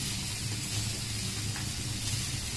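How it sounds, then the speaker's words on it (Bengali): Green chillies and black cumin fry in hot oil, giving a continuous loud sizzling hiss that stays even and close throughout, with no voices. "একটু ভাজা ভাজা হোক"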